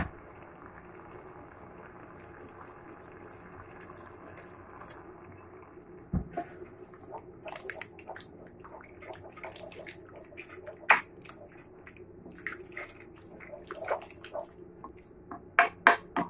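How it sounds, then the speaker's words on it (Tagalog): Liquid in a cooking pot coming to the boil, quiet at first, then scattered bubbling pops and patter growing busier and louder toward the end, close with no talk. "Kuluin lang natin siya guys."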